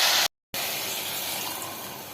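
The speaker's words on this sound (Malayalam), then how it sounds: "ഒരു കപ്പ് വെള്ളം ഒഴിച്ചു കൊടുക്കാം" Water poured from a cup into a cooking pot of Kerala-style chickpea curry with chopped tomatoes makes a steady, close splashing hiss, briefly cut off, then continuing evenly.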